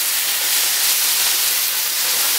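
Sauce poured into a hot pan of fresh vegetable stir fry gives a loud, steady sizzling hiss that fills the whole moment with no voice over it.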